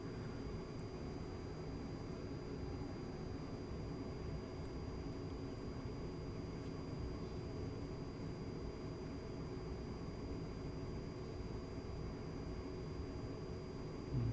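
A-10C Warthog taxiing slowly in DCS World: a steady, unbroken jet engine whine and roar with a thin high tone, even in level throughout, with no voices.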